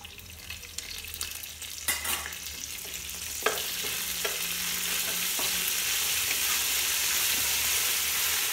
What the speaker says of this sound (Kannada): ಚೆನ್ನಾಗಿ ಹುರ್ಕೊಳ್ಳೋಣ ಮೆಂತ್ಯ ಸೊಪ್ಪು